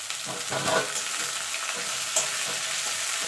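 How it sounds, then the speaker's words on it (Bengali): Drumstick flowers added to onion, garlic and green chilli frying in oil, a close, steady sizzle with a few stirring scrapes and crackles, no voices over it. "পেঁয়াজ রসুনটা আর কাঁচা লঙ্কাটা ভাজা ভাজা হয়ে গেছে এবার দিয়ে দেবো ফুলটা"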